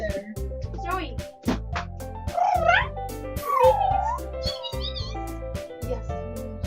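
A pet cat meows several times in rising and falling cries, close by, over a loud, steady backdrop of game music with a rhythmic beat.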